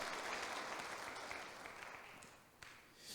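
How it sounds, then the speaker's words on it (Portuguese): A church congregation applauds during a sermon, making a faint, even wash of many clapping hands that slowly fades. "Dá um aplauso a esse Jesus que fez essa obra por cada um de nós"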